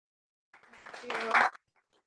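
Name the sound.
audience round of applause at seminar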